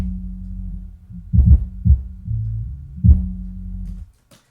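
A hip hop sample bass track with the highs filtered out and plugins applied plays as a deep, sustained low hum with a few thumping pulses, close and dark, ending abruptly.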